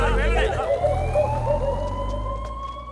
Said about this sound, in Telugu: అంబులెన్స్ వచ్చింది, దింపండి.